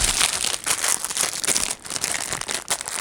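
Plastic mailing bags crinkle and rustle continuously, loud and close, with irregular crackling bursts as they are handled.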